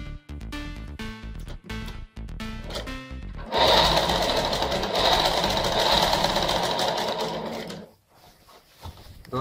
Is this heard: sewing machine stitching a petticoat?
yes